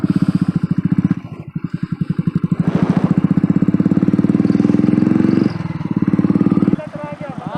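Royal Enfield Bullet motorcycle ridden off-road on a jungle diversion near Ranchi, Jharkhand, its engine thumping close and loud in a steady pulse that swells as the rider revs, with short dips between throttle pushes.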